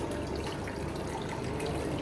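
Kaveri water flows steadily at the Gowdagere Chamundeshwari temple, a continuous close rushing like a running tap, alone and without a break.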